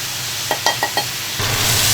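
Pickled chilies going into a hot wok for a Chongqing spicy grilled fish sauce: four quick spatula clacks, then a bright sizzle swells up close and keeps hissing.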